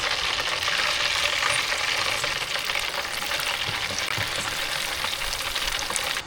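Steady, loud sizzling and crackling of fish frying in hot oil, plain with no coating, at a forest campsite, continuous throughout with no voices.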